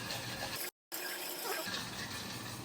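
Water poured into a bottle with ice and swirled around, a steady broadband splashing rush that breaks off briefly to silence before resuming at a constant level.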